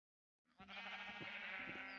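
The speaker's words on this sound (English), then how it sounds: "Okay, well, we have sheep, so that's a good start. Oh, lots of sheep." A sheep in the video game Minecraft gives one sustained, wavering bleat that starts abruptly from silence, near and clear, with no other sound around it.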